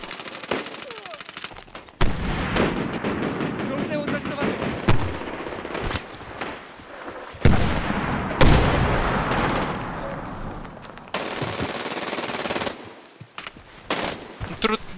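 Video game gunfire in Medal of Honor: Warfighter, loud sustained automatic bursts and heavy shots with explosive thumps, continuous throughout, with people talking over it.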